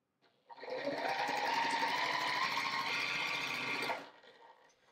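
A sewing machine stitches a quilt square across the diagonal in one steady, close, continuous run of about four seconds, then stops.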